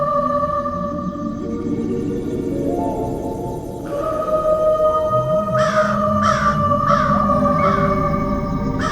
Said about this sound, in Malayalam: കരഞ്ഞുകൊണ്ടിരുന്ന കാക്കകളെല്ലാം പറന്നുപോയി.